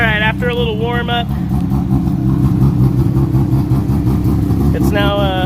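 Warmed-up first-gen Mazda RX-7 race car with a rotary engine idling close by, a loud, steady, lumpy throb throughout, while someone talks over it at the start and end.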